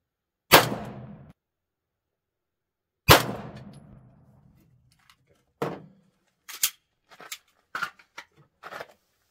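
A Sig Sauer P320 Legion pistol, IPSC legal, fires match ammo while being sighted in: two loud, close reports with ringing decay, spaced a few seconds apart, then a scatter of fainter sharp cracks.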